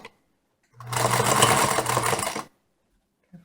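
A sewing machine stitches along the edge of a fabric wing in one steady, loud whirring run of nearly two seconds, starting and stopping abruptly, with near silence on either side.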